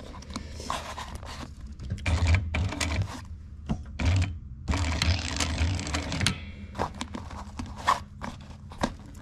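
A sewing machine top stitching around a handmade zippered pack bag, running in rapid mechanical bursts with brief pauses between, close and fairly loud, no voices.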